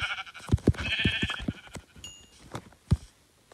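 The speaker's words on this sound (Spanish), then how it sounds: "Mira, una oveja. Perfecto." Several short sheep bleats from the Minecraft video game come in quick succession, fairly close and clear, followed by a few quieter game sounds.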